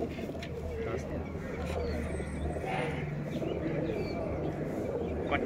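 A high flyer breeder pigeon coos softly and repeatedly, its low murmuring calls partly under someone talking nearby.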